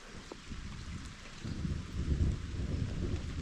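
Thunderstorm with steady rain and low rolling thunder, the rumble swelling louder in the second half; no one speaks.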